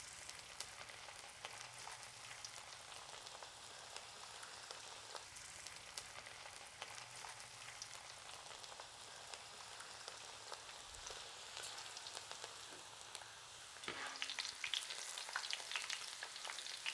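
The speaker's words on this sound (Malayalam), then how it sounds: "അപ്പോൾ നമ്മുടെ എണ്ണ ചൂടായി വന്നിട്ടുണ്ട്. നമ്മുടെ സവാള ഇട്ട് കൊടുക്കാം." Sliced onions scattered into hot oil for onion pakoda, a quiet, dense, crackling fry that holds steady and grows a little louder and busier near the end.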